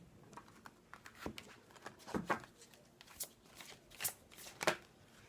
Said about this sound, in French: on va prendre déjà une petite carte du tarot des anges